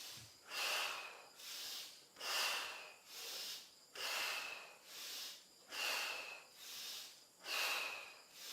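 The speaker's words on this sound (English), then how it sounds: "Deeper breathing." Slow, deep breathing during a guided exercise: about eight long, even breaths, alternating inhale and exhale in a steady rhythm, close and moderately loud, with no talking.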